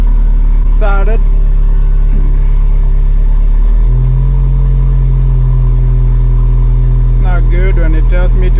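An Alfa Romeo 4C engine starts and settles into a loud, close running rumble, with brief bursts of a person's voice at the start and again near the end.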